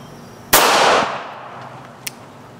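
A single sharp handgun shot fired over a chronograph with Hornady Critical Defense ammunition, a loud crack that rings and decays for about half a second, followed by a brief faint click.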